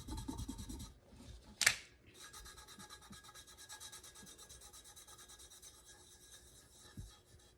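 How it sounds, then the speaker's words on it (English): Glitter is rubbed on a glow tumbler, a faint continuous scratchy rubbing close up, with one brief louder scrape partway through and no talking. "As I'm rubbing this, some of the glitter is coming off"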